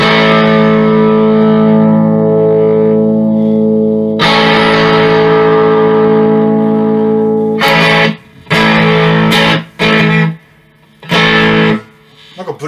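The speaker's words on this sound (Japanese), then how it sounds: "ちょっと歪み上げてみましょうか。" A homemade electric guitar, built around a flying-stone theme, rings out with its distortion turned up. It sustains long chords and then plays choppy, stopping phrases with reverb-like tails, loud and close, with no voices.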